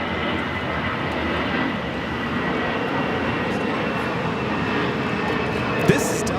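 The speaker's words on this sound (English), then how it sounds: "This is Delta Airlines 2568 taking off to San Antonio on the A319" A Delta Airlines Airbus A319 departing LAX for San Antonio produces a loud, steady jet roar at full takeoff power, sustained throughout, with a voice talking over it.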